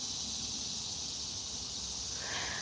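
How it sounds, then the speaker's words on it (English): Cicadas droning in a natural outdoor setting, a continuous high-pitched buzzing hiss held steady and fairly loud throughout, with no voices. "cicadas."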